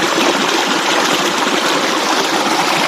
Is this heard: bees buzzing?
no